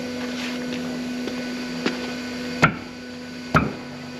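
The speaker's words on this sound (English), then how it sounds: "All I'm doing is turning the ratchet." Ratchet turned on a truck brake S-cam adjuster on an old ERF lorry, faint clicks followed by two sharp metallic clunks, close by over a steady workshop hum.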